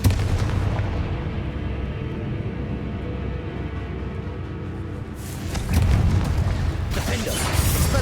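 Confringo spell blasts in Hogwarts Legacy go off as loud, booming bursts under rumbling combat noise, with a heavier surge of explosions toward the end.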